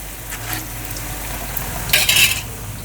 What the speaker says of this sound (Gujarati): આ બધા છે ને ફાસ્ટ ગેસે તળ્યા છે